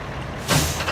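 Air brakes on a truck in American Truck Simulator set with one short, loud burst of hissing air about halfway through, cutting sharply over the steady engine rumble.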